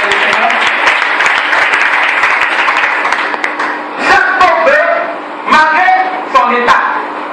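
A church congregation applauds loudly and steadily, with the clapping thinning into scattered claps as a voice speaks over it.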